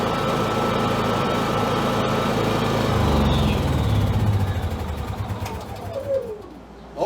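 A Honda EU7000is fuel-injected inverter generator converted to propane drones with a steady, close engine hum that swells slightly midway. It then softens and wavers near the end, with no talking.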